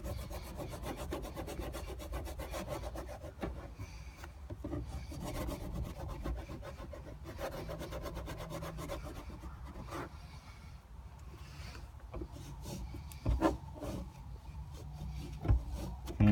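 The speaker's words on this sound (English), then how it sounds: "use one of the denatured alcohol wipes. Clean the area, see what we're working with." A denatured alcohol wipe is rubbed back and forth over a plastic surface still carrying leftover adhesive, giving a faint, continuous close-up scrubbing and rubbing with a few soft knocks near the end.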